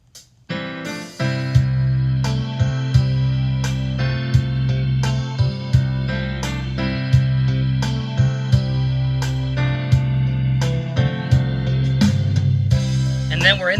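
Auto-accompaniment intro rhythm from a Yamaha DGX 660 digital piano: a full band pattern with a steady bass line, sustained chords and regular drum hits, loud and continuous for over ten seconds.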